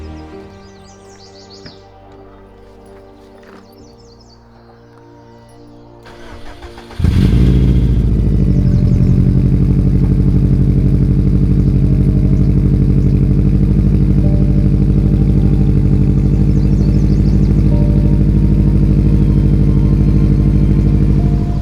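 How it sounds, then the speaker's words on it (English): A Subaru WRX STI fires up from a cold start after quiet outdoor ambience with faint birdsong, settling into a loud, steady, close idle that fills the rest of the clip. "we can go ahead and start the STI"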